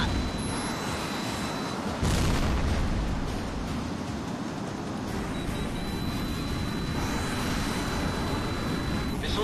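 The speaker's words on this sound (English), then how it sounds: "Missile impact." A missile impact explosion in the jet combat game HAWX booms out suddenly, a heavy burst that rumbles over a constant roar of aircraft engines, with radio chatter faintly underneath.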